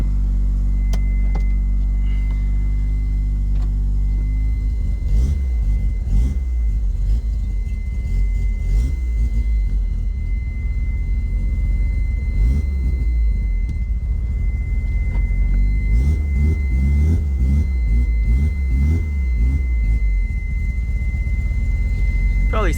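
Mazda RX-7 engine idling and revving as the car is shifted in a garage after a battery relocation, a loud, steady low rumble with rising surges of throttle in the middle and near the end, running alone without talk.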